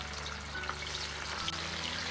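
Tofu fries in hot salad oil sprinkled with salt in a dry-heated wok, giving a constant close sizzle with small crackling pops and no voices.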